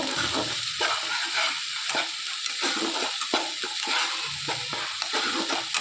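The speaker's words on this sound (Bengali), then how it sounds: "এবার মশলাটা বেশ ভালোভাবে কষিয়ে নেব।" Spice paste for a doi rui (rohu fish in yogurt) curry, seasoned with turmeric and salt, fries steadily in hot oil in a pan, giving a continuous close sizzle with soft stirring scrapes throughout.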